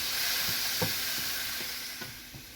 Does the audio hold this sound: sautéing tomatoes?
yes